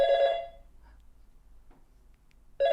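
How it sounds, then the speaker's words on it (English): A telephone rings in two loud, buzzy bursts separated by about two seconds of near silence, heard up close with no talking. "I can hear the phone ringing."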